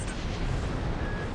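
A sub-generator explodes in the mech combat game Armored Core 6 with a continuous, heavy roaring blast, loud and close, sustained rumble throughout with a faint high tone near the end.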